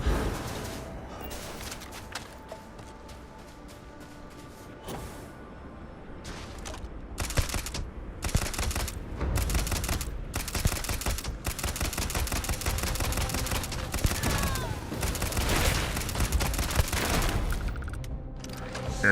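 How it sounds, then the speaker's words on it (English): Shotgun blasts and other weapon fire during a sci-fi space shooter fight, a busy stretch of irregular sharp bangs and crackling impacts over a steady background rumble, growing denser midway. "Fair shotgun moment."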